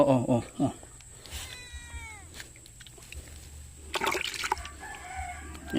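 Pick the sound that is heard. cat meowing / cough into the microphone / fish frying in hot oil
cat meowing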